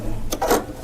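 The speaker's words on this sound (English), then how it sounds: "I'm just coming around and stitching that down." Brief burst of a Baby Lock sewing machine stitching down piping with a specialty foot, a quick close whirring run of the needle lasting under a second.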